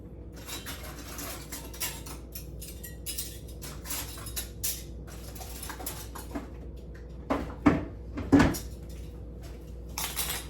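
Metal canning jar lids and rings being fetched from a kitchen cupboard, with light clinks and rattles scattered through the clip and a louder cluster of clatter near the end, in a quiet room with no talking.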